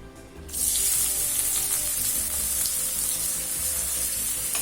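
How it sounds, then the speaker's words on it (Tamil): Small radish pieces sautéing in oil in a kadai for vegetable chutney give a loud, steady hiss and sizzle that starts suddenly and holds evenly throughout, with no voices. "இப்போ முள்ளங்கியை 1 நிமிஷம் வரைக்கும் வதக்கியாச்சு"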